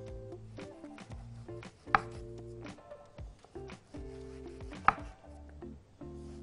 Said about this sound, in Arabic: كل حته في المانجا بناخدها ونقطعها شرايح زي اللي قدامكم ديه